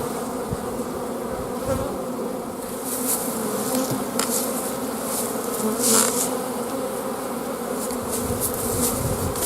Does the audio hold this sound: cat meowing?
no